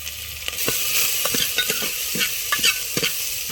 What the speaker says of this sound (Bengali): একসাথে রসুন আদা আর হচ্ছে আমাদের পেঁয়াজ এগুলোকে দিয়ে এবার একটু এটাকে হালকা ভেজে নিই